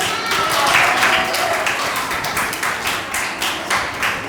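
An audience at a lactation management training session at a hospital claps, a steady patter of hand claps at close range lasting several seconds with a faint voice underneath.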